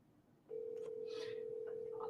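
A steady single tone sounds on an outgoing phone call while waiting for the other party to answer, constant and fairly loud from about half a second on, with faint clicks over it.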